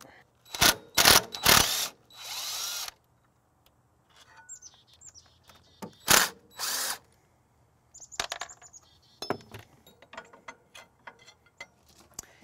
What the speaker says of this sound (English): A 13 millimeter wrench and socket will get this bolt taken out.